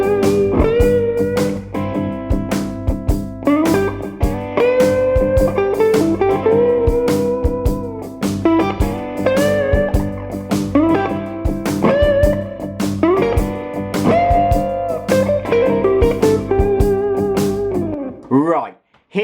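Steady electric guitar lead line full of smooth string bends and even vibrato over a driving backing rhythm, continuous and loud for nearly twenty seconds before ending abruptly.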